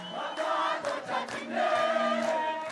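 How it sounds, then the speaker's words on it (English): A crowd at a militia training event in a sprawling city roars and cheers on neighbors preparing for war, a steady mass of voices swelling in waves with occasional louder bursts, fairly close and continuous. "the crowd, who roared on their neighbors preparing for war, then cheered on the man who asked them to fight"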